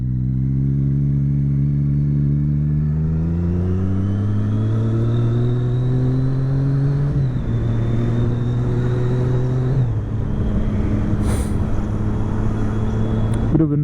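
A motorcycle engine revs steadily on a night ride, its pitch climbing through the gears with two shift drops and a continuous loud drone from start to finish, with no voices.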